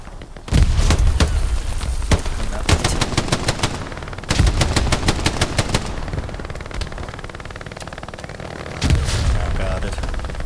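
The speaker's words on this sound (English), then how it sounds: "He's about to have a grenade go off." Gunfire rattles in the Hell Let Loose video game, with rapid machine-gun bursts and heavy booms including a grenade blast, loud and dense over a background of battle noise.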